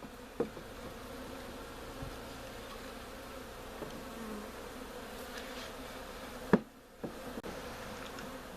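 Honey bees from a swarm cluster around a hive lid, producing a faint, continuous buzz with a few soft knocks and handling noises.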